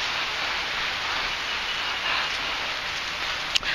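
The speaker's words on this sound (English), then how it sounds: "So heavy rain is happening at this place" Heavy rain pours outdoors as a dense, even hiss that stays constant and fairly loud throughout, with one brief knock near the end and no voices.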